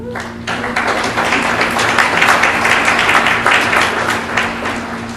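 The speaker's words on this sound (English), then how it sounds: "Now give yourselves a round of applause." A graduating class and audience at a Forest Institute commencement ceremony break into loud, dense applause. Many hands clap together in a sustained burst that fills the hall, and a few voices are faintly audible underneath.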